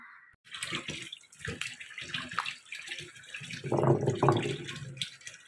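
Water splashes and runs over a stone grinding slab while it is scrubbed clean, with louder sloshing toward the end.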